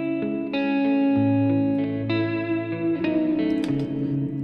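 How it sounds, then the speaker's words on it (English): Sustained, layered musical tones pass through the free Cesium delay plugin, set for a dreamy, smeared, worn delay blended with the dry signal. Soft repeats and reverb-like tails trail each new note, steady and fairly loud. "you combine that smear and the wear together, and you can really kind of have a dreamy delay"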